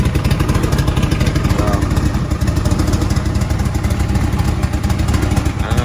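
A loud engine idles close by through a 4-inch open exhaust with no muffler, a rapid, throbbing exhaust pulse, raw and unmuffled, holding steady throughout with a faint voice underneath.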